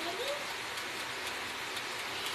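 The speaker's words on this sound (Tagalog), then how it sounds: "Ayan na yung malakas sa ulan." Heavy rain pours steadily on a surface while lechon belly cooks, a constant dense hiss with faint drop taps and no speech.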